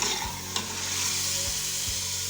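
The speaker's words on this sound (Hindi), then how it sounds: "पहले फ्राई करने से चिकन कच्चा नहीं रहता" Chicken pieces fry in a pan of hot oil for a chicken and pumpkin curry. A steady, close sizzle runs throughout, with a few brief stirring scrapes breaking through.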